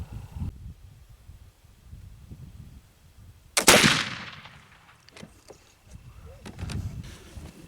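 A single loud black powder rifle shot using a homemade sycamore and osage charcoal blend. It cracks sharply and trails off in a rumbling decay, with faint voices murmuring before and after.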